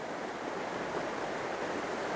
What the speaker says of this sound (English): I've got the main part of the water, so the rapids,